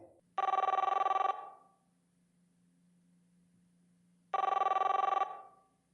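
A telephone rings for an incoming call, two distinct electronic rings a few seconds apart, clear and moderately loud over a faint steady hum.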